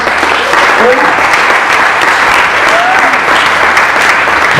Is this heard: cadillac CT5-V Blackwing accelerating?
no